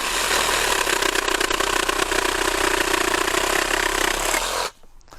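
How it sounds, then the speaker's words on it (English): A Sawzall reciprocating saw cuts pieces of 2x2 wood for a raised bed. It makes a loud, steady, buzzing drone close by, then stops abruptly just before the end. "So I'm going to do a quick cut on these."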